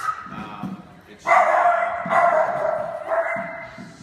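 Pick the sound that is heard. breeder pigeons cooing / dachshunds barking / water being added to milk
dachshunds barking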